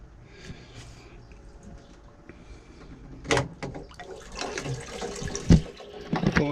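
Water from a garden hose overflows from a narrowboat's filled tank, splashing and trickling steadily nearby, growing louder and more turbulent partway through.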